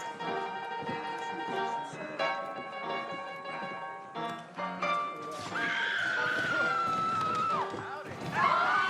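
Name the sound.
horses neighing in video game Red Dead Redemption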